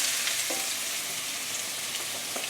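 Diced boneless pork loin frying in a hot wok, giving a steady, close broadband sizzle throughout with a couple of faint stirring knocks, no voices.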